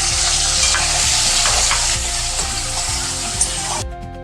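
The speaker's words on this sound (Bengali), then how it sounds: "তেলটা গরম হয়ে গেলে চিংড়ি মাছগুলো দিয়ে দিচ্ছি।" Prawns coated in salt and turmeric sizzle loudly in hot oil with steady crackling and occasional stirring scrapes, then the sound cuts off abruptly at the end.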